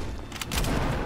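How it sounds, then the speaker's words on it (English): Burst of gunfire in Fortnite Battle Royale, a dense rattle of rapid shots and booms packed into about a second, loud and close with no talk over it. "Stop shooting me!"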